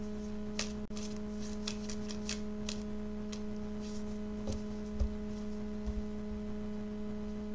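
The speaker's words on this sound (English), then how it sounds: "I will cut the cards" Tarot cards being shuffled and cut by hand, a few soft riffles and taps spaced out over a steady low electrical hum, with no talking.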